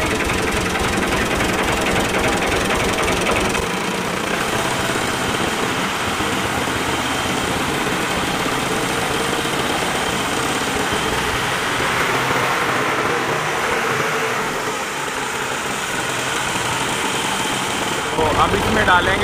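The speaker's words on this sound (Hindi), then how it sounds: "अब ट्रैक्टर को बाहर निकाल लेंगे।" A tractor engine runs steadily with a rough, knocking diesel clatter as the tractor is driven out, loud and continuous, with a voice speaking over it.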